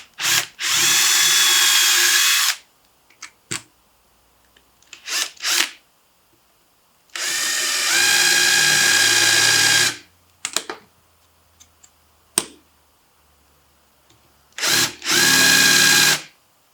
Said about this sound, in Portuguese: a gente vai fazer uma coisa utilizando uma furadeira. Com uma broquinha tipo 4 milímetros, 3 milímetros